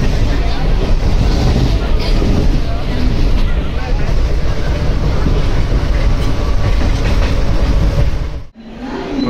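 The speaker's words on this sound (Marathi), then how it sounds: "आता कोकणकडनं ट्रेन आलेली आहे" A late train from the Konkan side pulls into Dadar station platform with a loud, continuous rumble of wheels and carriages, buffeted by heavy wind noise and ending in a brief dip.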